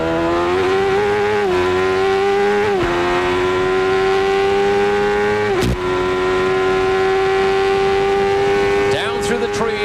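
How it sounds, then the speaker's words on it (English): A 1993 CART race car engine at Road America screams loud and close, its pitch climbing and dropping at each of several gear changes in a sustained onboard roar, with commentary running beneath it. "You can hear he just uses 5 forward gears"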